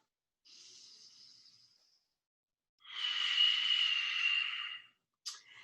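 Ujjayi breathing during a yoga practice: a soft, steady breath, then a longer, louder ocean-like rasping breath held for about two seconds, ending with a brief sharp exhale. Close, with no talking.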